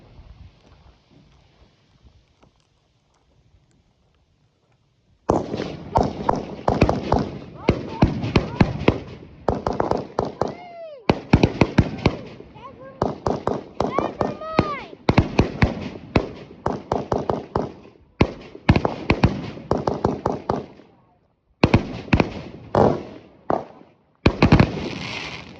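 Fireworks for a 4th of July celebration, a long run of loud, sharp bangs and crackles in quick bursts with brief pauses, some with whistling rises, after a quiet start.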